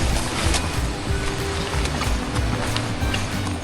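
Steady rushing roar of a waterfall at Ganpati Gadad cave, loud and constant with no breaks, a dense wash of falling water close at hand.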